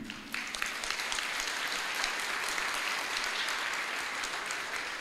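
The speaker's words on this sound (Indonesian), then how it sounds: "Tepuk tangan yang meriah." Dense, lively applause from a large audience at a university new-student orientation attended by the rector and deans, a thick, steady roar of clapping that holds at an even level for the whole stretch, with no voices.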